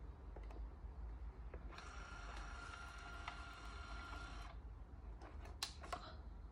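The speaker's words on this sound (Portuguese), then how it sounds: "Aí eu aperto aqui para imprimir." A Brother P-touch H200 label maker prints a thin 6 mm tape label, giving a steady, close whirring buzz for about three seconds, framed by small button clicks and handling taps in a quiet room.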